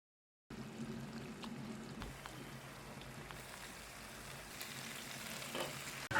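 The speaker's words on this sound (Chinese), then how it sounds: "炒一炒出锅" Minced meat sauce with chili and garlic sprouts stir-frying in a home kitchen wok, a steady close crackling sizzle with occasional spatula scrapes throughout, no voices.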